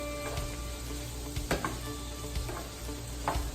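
Sausages and spices frying in a pan, a dense continuous sizzle close up with occasional stirring scrapes and light knocks, loud and uninterrupted, no speech.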